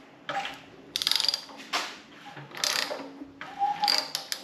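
A Honda K24 engine with its spark plugs out is turned over by hand, giving a few separate bursts of mechanical clicking and ratcheting, close and fairly faint, with short gaps between turns.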